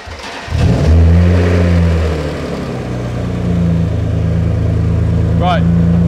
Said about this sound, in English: So now we need to run the engine and check the level again.